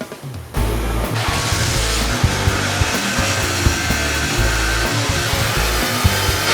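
A new Kawasaki motorcycle engine is started during a pre-delivery inspection. It catches after half a second and settles into a loud, steady, close idle with a pulsing low rumble and broad mechanical noise, with no talking.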